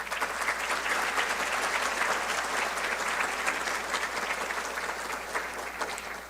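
An audience applauds a welcomed guest, magistrate Dr. María del Refugio Elizabeth Rodríguez Colín, at a forum on reforms to Mexico's Amparo Law: steady, dense clapping from a full room that holds throughout and tapers slightly at the end.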